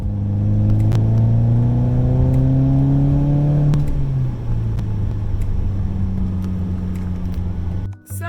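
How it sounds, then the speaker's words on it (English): A straight-piped Mercedes engine revs hard, its loud rising roar climbing in pitch, then settling into a steady, throaty drone close by before cutting off abruptly at the end. "I straight piped the Mercedes."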